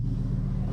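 A deep, steady engine rumble with a throaty low growl, loud and close, holding a constant idle-like revving tone with no voices.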